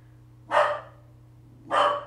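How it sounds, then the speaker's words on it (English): A dog indoors gives two single barks about a second apart, moderately loud and slightly distant, over a steady low electrical hum. "Sorry for the dog barking again"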